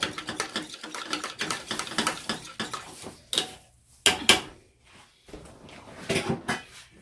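A warm butter and garlic mixture for mashed potatoes is stirred in a pot, giving close scraping and clinking of a utensil in irregular strokes, with a few sharper knocks against the side.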